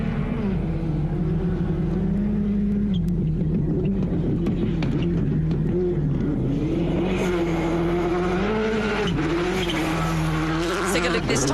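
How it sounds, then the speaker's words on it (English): A rally car tears through a special stage at Rally Saudi Arabia, its engine loud and close as it revs up and down through gear changes with scrabbling tyre noise, and commentary voices run over it. "Oliver Solberg first into the stage after the Rally 1 cars have gone through"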